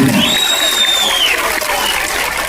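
An audience applauds for Raghu at a Kannada film event, a dense, loud wash of clapping with a whistle rising above it.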